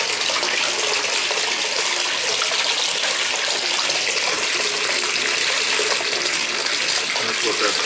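Water gushing steadily from a faucet into a bathtub during an overflow drain repair test, a loud continuous hiss and splash, close and unbroken.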